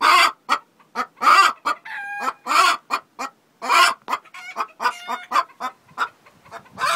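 Chickens on a farm roost cluck and squawk in quick, loud irregular bursts, with one bird crowing partway through; several birds sound close together and there is no talking.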